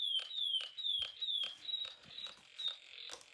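A homemade Snap Circuits fire alarm with a salvaged diode sounds a rapid, repeating descending electronic chirp, about eight pulses in quick succession, thin and fairly quiet, with faint clicks under it.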